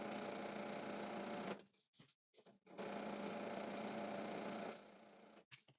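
A sewing machine stitching a side seam on a skirt runs in a steady close whirring hum, stops briefly, starts again for a few seconds and then slows into short bursts.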